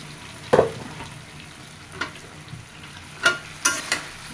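A cumin spice paste fries in a pan for a fish and potato curry, a soft sizzle broken by a few sharp spoon scrapes and clacks at irregular intervals.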